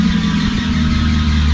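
Toyota Soarer engine running with the muffler and exhaust removed, a loud, raw, close idle rumble with a strong steady drone and rough low pulsing throughout.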